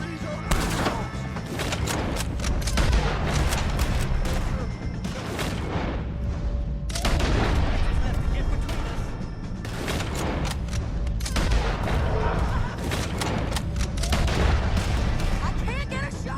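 Dense, sustained gunfire from a Red Dead Redemption 2 shootout against O'Driscoll gang members, with rapid shots and heavy booms overlapping throughout, loud and close, while voices shout over the fighting.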